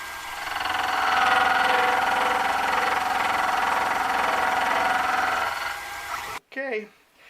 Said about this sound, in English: you get to see a little bit more of the true cutting of the gear